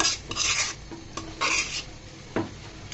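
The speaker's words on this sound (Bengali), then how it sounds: "দিয়ে সুন্দর মতো নাড়াচাড়া করে মিশিয়ে নিব" A spoon scrapes and rasps through a thick drumstick leaf mixture with baking soda, in several rough stirring strokes close up with short pauses between them.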